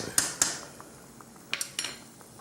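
A metal tasting spoon scrapes and taps against a container while getting chopped garlic out, with a few sharp clinks and short scrapes in quick bursts, close and fairly loud with no talking.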